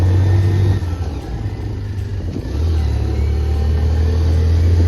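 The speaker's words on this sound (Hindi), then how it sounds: "आवाज़ आ रही होगी आपको इंजन की" A scooter engine labours up a very steep hill climb in low gear, a loud, close, droning rumble that dips briefly and then rises again to a strained, steady roar.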